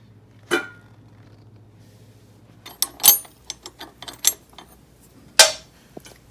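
Metal clicks and clanks from wrenching brake caliper bolts off a Yamaha XSR700 motorcycle's front end: a sharp knock, a quiet pause, then a cluster of close ratchet-like clicks and one louder clank.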